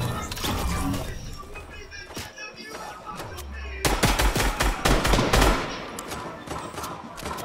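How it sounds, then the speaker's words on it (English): Gunfire coming through a wall in a PC video game, rapid rattling bursts of shots, loudest and densest in the middle section, with background game sounds throughout. "She shot through the wall"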